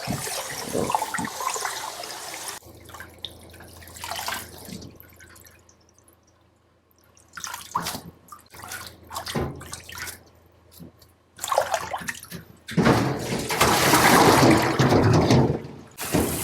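Daylily greens rinsed by hand, shaken gently in a basin of water with the fingers, intermittent bursts of sloshing and dripping with quiet pauses between, close and moderately loud, without speech.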